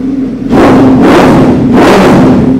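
A superbike engine fires up and revs hard, three loud rising-and-falling bursts over a steady idle hum, close to the microphone.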